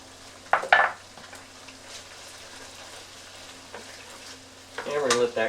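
Red Thai chili peppers sizzle in a hot pan for drunken noodles. A soft, steady frying hiss runs underneath, broken by a few sharp metallic clinks and stirring scrapes near the start and end.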